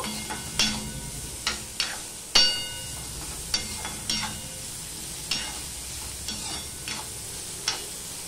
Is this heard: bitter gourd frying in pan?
yes